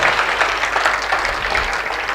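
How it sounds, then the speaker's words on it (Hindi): Audience applause at a live Hindi comedy poetry recital, a dense steady clapping from a crowd that holds at an even level throughout, with no pauses. "तालियां बजाइए"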